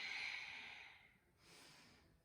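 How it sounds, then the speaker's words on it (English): Deep Ujjayi yoga breathing: one long, airy breath hissing through a constricted throat, then a fainter second breath, close and quiet with no talk. "Deep Ujjayi breaths."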